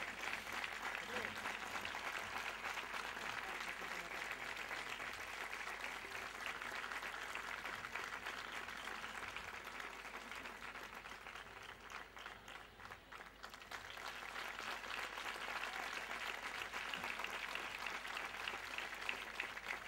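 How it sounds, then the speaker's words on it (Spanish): Steady, dense applause from an audience at a municipal honours and medal ceremony, sustained for the full span, dipping briefly near the middle before swelling again, with no voices over it. "Un fuerte aplauso."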